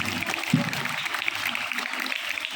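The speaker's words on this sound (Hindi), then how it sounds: "तालियां रुकनी नहीं चाहिए।" Dense, steady clapping from a crowd at an Independence Day (15 August) school gathering in India, a continuous broadband patter that holds evenly for a few seconds with one brief louder burst early on.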